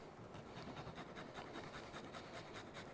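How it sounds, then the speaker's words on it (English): Garlic cloves being rubbed against a grater in a kitchen, a quick run of soft, steady rasping strokes repeating close by and faint, with no talking. "Now we're gonna grate some garlic."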